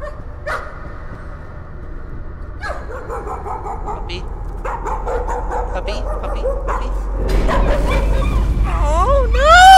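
A dog in the horror video game Layers of Fear barks in short, repeated yips and whimpers against a quiet, eerie hum, growing louder toward the end while a player talks over it.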